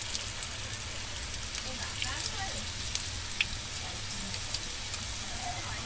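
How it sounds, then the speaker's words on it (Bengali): Spicy onion bread snack deep frying in hot oil, a continuous soft rain-like sizzle with scattered pops, steady and close throughout. "আমি এবার বাকিগুলো দিয়ে সব ডিপ ফ্রাই করে নেব"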